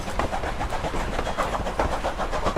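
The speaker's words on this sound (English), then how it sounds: "you'll hear the rhythm of the chugging. That's the steam exhausting out of the cylinders." Steady rhythmic chugging of a coal-burning steam locomotive on the Durango line, with repeated exhaust puffs from the cylinders and a clattering undertone, moderately loud and continuous, no voices.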